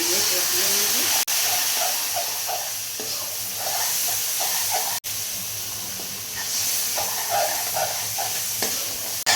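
Turmeric, chili powder and cumin powder hiss and sizzle in a hot pan as water goes in for a sea fish curry. The steady, steamy frying noise is near and loud, broken by two brief cuts.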